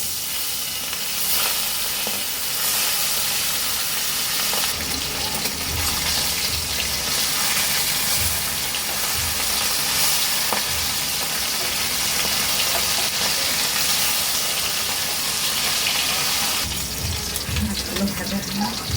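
Koi fish frying in hot oil in a heated kadai give a steady, loud, broad hiss and sizzle that runs throughout with little change.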